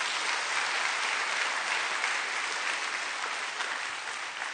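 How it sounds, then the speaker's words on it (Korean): Church congregation at a Friday worship service applauding together, a continuous even wash of clapping from many hands, somewhat distant and muffled, holding steady for several seconds before easing slightly. "우리 박수로."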